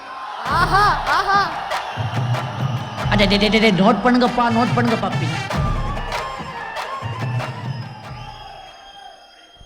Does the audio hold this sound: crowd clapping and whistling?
yes